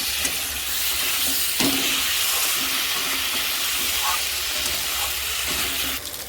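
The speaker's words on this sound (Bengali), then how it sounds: "এটা ভালো করে ভাজতে হবে।" Potatoes frying in a pan for a Bengali potato curry with lentil fritters, giving a steady close sizzle and hiss that runs the whole time, with a few faint clinks and stirring sounds and no talking.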